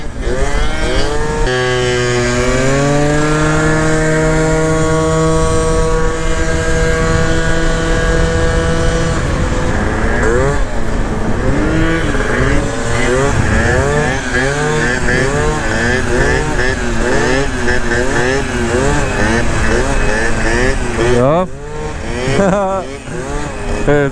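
Honda Elite DIO scooter with a 72cc upgrade riding, a loud buzzing two-stroke engine that climbs in pitch, then wavers and revs up and down continuously, close and dominant, with a voice speaking briefly.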